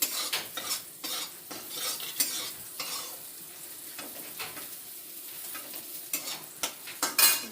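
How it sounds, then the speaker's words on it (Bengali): Soybean chunks fry in a home kitchen pan, a steady sizzle broken by repeated scrapes and clinks of a metal spatula stirring, close and fairly loud with no talk. "সয়াবিনটা ভেজে নিচ্ছি"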